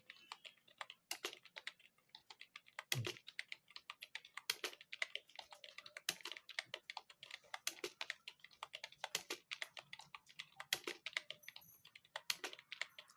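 Fingers type on a computer keyboard during English typing practice, a steady, close stream of quick clicky keystrokes with brief pauses and no talking.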